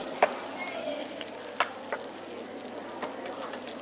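Moringa leaves and vegetables sautéing in oil, a soft, steady sizzle with a few light taps of the spoon, close and fairly quiet, with no speech.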